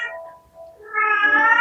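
A pet cat meows twice up close, a short cry fading out, then after a brief pause a louder, rising meow that holds to the end.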